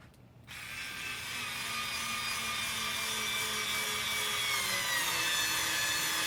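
SKIL 4V Pivot Grip USB rechargeable cordless screwdriver driving a screw of about 1 to 1.5 inches, a steady close whirring motor drone that starts abruptly and holds evenly, with no talk.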